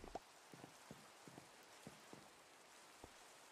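Rain falls in a Minecraft-style video game: sparse, faint patter with scattered soft drop ticks over a quiet hiss, steady throughout.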